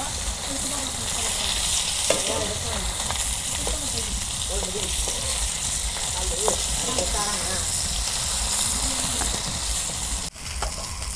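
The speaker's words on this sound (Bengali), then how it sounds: "কুইয়ে মাছ আমি ভালো করে ভাইজা নিব, একেবারে কড়া করে ভাইজা নিব" Kuiye fish frying crisp in oil in a pan over a village cooking fire, a steady loud sizzle with occasional stirring clatter and a voice speaking faintly in the background.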